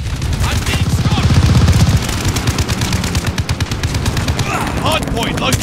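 Rapid automatic gunfire in Call of Duty Vanguard Hardpoint multiplayer, loud, close bursts of machine-gun fire with sharp repeated shots running almost continuously, mixed with game chatter.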